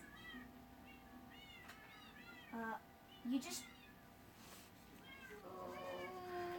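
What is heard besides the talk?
cats meowing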